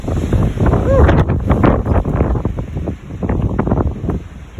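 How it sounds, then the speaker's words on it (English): Strong gusts buffet the microphone in Truth or Consequences, New Mexico, a loud, continuous roar with rapid irregular thumps, and a voice speaks faintly underneath. "is it always this windy here?"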